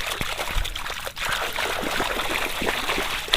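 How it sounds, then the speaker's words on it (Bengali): Water trickles and splashes steadily as it is poured over muddy feet outdoors, a close, continuous dribble with small spattering drops throughout. "আমি জাস্ট একটু পাটা ধুয়ে নেই"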